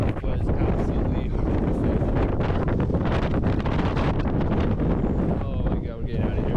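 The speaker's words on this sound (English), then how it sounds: "The wind started to get crazy and we even saw someone else's tent blow away." Strong, gusting wind batters a mountain campsite in the Eastern Sierra near Mt Whitney on a freezing night, a loud, steady roar with buffeting against the microphone throughout, while voices are faintly present underneath.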